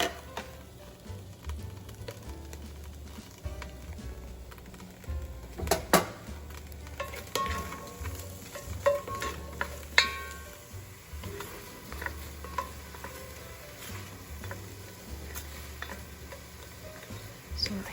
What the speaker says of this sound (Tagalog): in the same pan, I'm gonna cook the mushroom